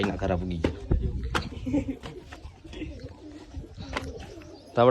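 Domestic pigeons coo at a house, several low rounded calls repeating near and fairly loud, with people talking over and between them.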